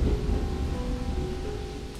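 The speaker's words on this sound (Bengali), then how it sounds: "ঝমঝমিয়ে বৃষ্টি নামল" Steady, dense rain pours down in a constant hiss with a low rumbling undertone, unbroken throughout.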